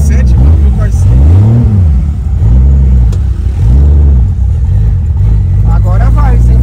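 A 1997 Chevrolet Caravan fitted with a turbo engine revs loudly and close, its drone rising and falling in repeated swells with a steady low rumble underneath.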